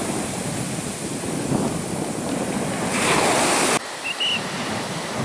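Ocean surf washing onto Kuzhupilly Beach in Kerala, a continuous roar of breaking waves mixed with wind buffeting the microphone.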